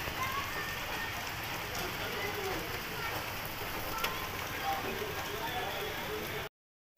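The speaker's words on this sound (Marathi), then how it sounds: "बाहेर बघा किती मस्त धो धो पाऊस चाललेला आहे." Heavy evening rain pours steadily outside, a dense, even hiss of drops drumming on surfaces that holds constant for several seconds before cutting off abruptly.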